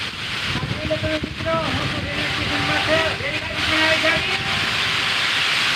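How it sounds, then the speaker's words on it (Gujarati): A passenger train rumbles past in heavy rain with a broad, hissing roar that swells and holds, while someone talks over the noise. "જો મિત્રો દેખાણો રેલ પણ આવી છે જો"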